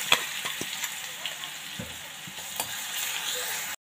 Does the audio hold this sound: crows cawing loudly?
no